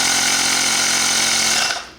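Portable tire inflator pump running loudly and steadily on its own with a harsh buzzing drone, then cutting off and winding down in the final moments.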